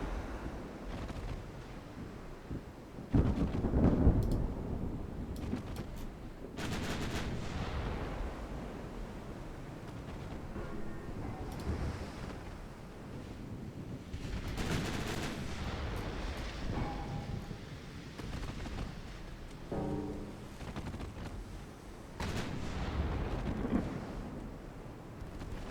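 Heavy booming rumbles from warship main guns firing on a heavy cruiser in a naval combat video game, dense and continuous, with several louder blasts standing out over a constant roaring background.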